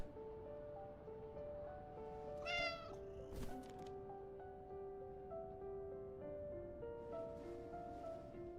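A cat in the Blue Protocol Star Resonance game meows once, a short, faint, tonal call over a soft background of steady game music and ambient noise, with no speech.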